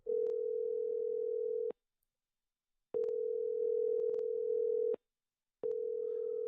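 An outgoing phone call goes unanswered, sounding as a steady electronic ringback tone in three long bursts of about two seconds each, separated by short silent gaps, clear and alone with no talk.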